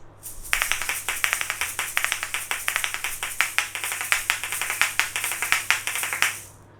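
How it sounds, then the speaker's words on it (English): Rapid, crisp clicking of asalato shakers, a steady rhythmic stream of sharp hard taps with no voices, stopping abruptly at the end. "just your thumb clicks right and left, and also your pinky side clicks right and left"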